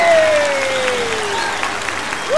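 Audience applause welcoming a male singer at a televised comedy show, clapping running steadily under a sliding musical tone, fairly loud and continuous.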